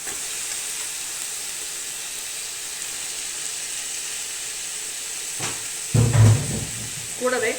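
Sliced onions and ginger garlic paste sauté in a large pot for a big batch of chicken curry, a constant soft hissing sizzle, with brief clatter and a voice near the end.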